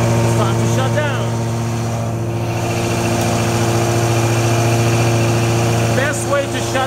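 An Amtex 2010 Inferno Eruption blower engine runs at a steady idle, a loud constant drone with a low hum throughout, while a voice talks briefly over it.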